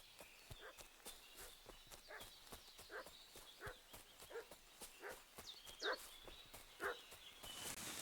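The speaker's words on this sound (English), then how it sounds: "What's that dog making such a fuss about?" Dog barking in Kingdom Come Deliverance 2, a series of distant, fairly faint barks repeating about once a second over footsteps and ambient game noise.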